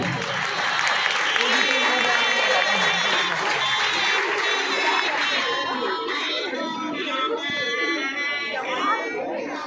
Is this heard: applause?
yes